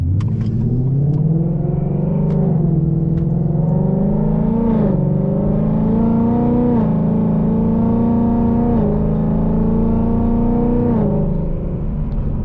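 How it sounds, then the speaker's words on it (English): A loud modified 2018 Ford Mustang GT V8 revs continuously up close in sport exhaust mode, its deep exhaust rumble rising and settling in several pulls without letting up, with no talking. "So that's in sport exhaust, so you can kind of tell that it's not opening all the way."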